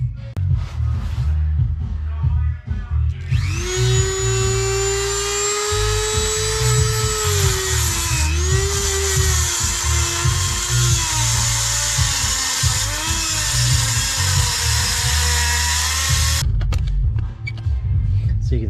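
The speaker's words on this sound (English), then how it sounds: "I'm going to take a wheel to that. And really all I've got is a Dremel" A Dremel cutting wheel slices through the metal bracket of a front sway bar bushing on a 2000 Ford Taurus, a loud, continuous high-pitched whine that wavers slightly in pitch as it bites, running for about thirteen seconds after a brief lead-in.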